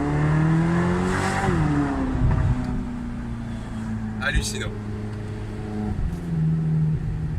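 A Ferrari California V8 engine rumbles steadily beneath an excited French-speaking voice, briefly revving higher before settling back to a low idle-like drone.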